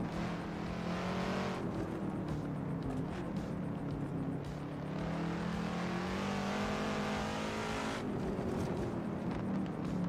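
Race car engine in the Assetto Corsa racing game on the narrow Goodwood circuit, revving hard and steadily throughout, with pitch rising through gear changes and a sharp upshift drop near the start and again late on.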